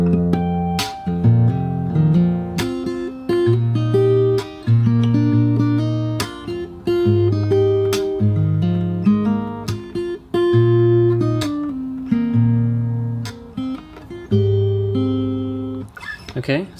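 Fingerstyle acoustic guitar plays the closing passage of the third verse, with plucked bass notes under picked melody and chords, up close and unaccompanied.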